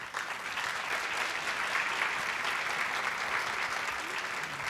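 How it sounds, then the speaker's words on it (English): Sustained applause from an audience at a workshop session, honoring a panel: dense, steady clapping that fills the room at even volume for nearly five seconds, with no voices rising above it. "So let's applaud our panel."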